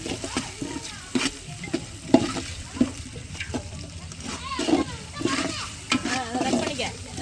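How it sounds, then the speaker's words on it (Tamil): Green chilies sautéing in a pan for chicken biryani, with soft sizzling and repeated stirring scrapes of a spoon, fairly quiet, alongside some water-like sounds. "பச்சை மிளகா வாசம் கழிச்சிரு. நல்லா கோல்டன் கலர் வர வரைக்கும் வதக்கி"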